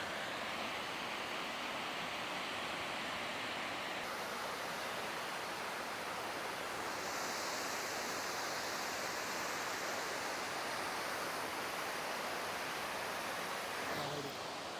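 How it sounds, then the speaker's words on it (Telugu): Erskine Falls waterfall heard from about 80 meters away: a steady broadband hiss of falling water, constant and fairly faint, with no talk over it. "సో చూస్తున్నారు కదా వాటర్ ఫాల్"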